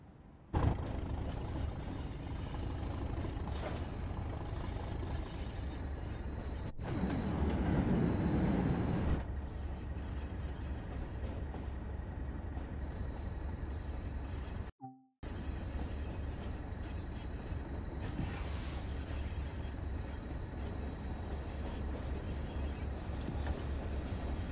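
A coal freight train in Train Sim World 2 on the Tees Valley Line rumbles steadily along the rails, with a continuous low drone, occasional clatter and a brief louder swell, heard alone without talk.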